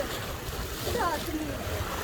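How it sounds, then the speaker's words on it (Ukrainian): Wind and waves on a waterfront promenade at Bal Harbour, Miami, near fishing spots: a steady broadband rush of gusting wind and surf with mic buffeting, and faint voices passing underneath. "вітер і хвилі"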